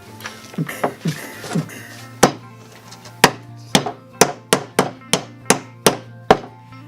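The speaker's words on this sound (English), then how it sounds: "a giant hammer came down and hit me" A series of sharp hammer blows, at first softer and irregular, then a steady run of about a dozen loud, ringing strikes evenly spaced.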